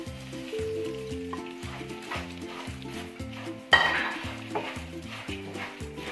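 Spoon stirring flattened rice with roasted nuts in a pan, soft scraping and rustling, with one sharper clink partway through, under steady instrumental music with a repeating beat.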